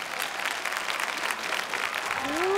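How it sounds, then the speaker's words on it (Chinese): Audience applause and clapping from a crowd at a televised street dance competition show, steady and sustained for the whole moment, with a rising whistle-like tone near the end. "好，再次把掌声送给他们。"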